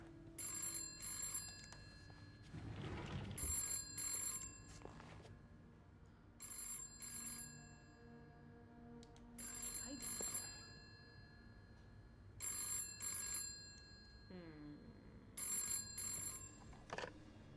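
Phone ringing in the video game This Bed We Made, with repeated bursts of a bright electronic trill separated by pauses, over a low room-tone bed and some faint clatter, with no talking.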